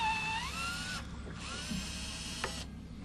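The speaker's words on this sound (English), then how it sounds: "I'm using a countersink bit in my drill" A power drill fitted with a countersink bit bores screw holes in wooden door trim, its whine rising as it spins up and running in two sustained bursts separated by a short pause, close and steady.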